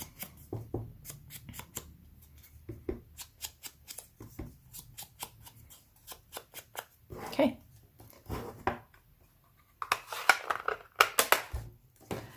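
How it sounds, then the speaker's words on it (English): A sponge dauber dabs ink along the edge of a cardstock paper piece in a paper craft project, giving a series of quick, soft close taps and scuffs with brief rustling between them. "a sponge or a sponge dauber, and I'm just adding some ink along that edge"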